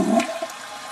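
A toilet flushes in one short, close rush of water that starts strong and tapers into a steady wash.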